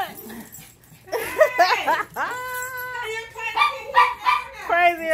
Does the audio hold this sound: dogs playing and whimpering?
yes